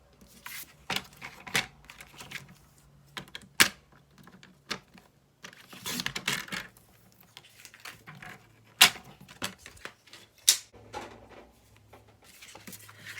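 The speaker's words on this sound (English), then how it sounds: "So we can just go and trim off an edge of that." A trimmer slices an edge off a piece of stamping cardstock for a handmade card, giving a scattered run of sharp clicks, taps and short sliding scrapes at close range, with no voices.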